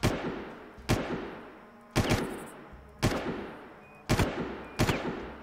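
Far Cry video game gunfire: six loud separate shots or short bursts spaced roughly a second apart, each with a sharp crack and a decaying echo tail.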